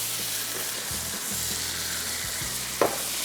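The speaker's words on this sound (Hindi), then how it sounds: "इसके बाद अब इसको हमने तेज़ आंच पे फ्राई करना है" Beef stew with ginger, black pepper and coriander frying hard over high heat, a steady loud sizzle with a low hum beneath and a brief clink of a utensil near the end.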